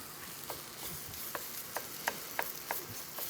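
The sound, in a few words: stirring sizzling chicken marsala in pan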